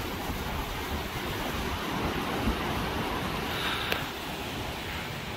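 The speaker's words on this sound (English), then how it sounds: "breezy day with a monsoonal wind coming in from the southwest here in the Philippines." Steady wind rushes over choppy, churned-up water in the shallows along a Philippine shore during a breezy southwest monsoon, a continuous broadband roar of surf and gusts with no voices.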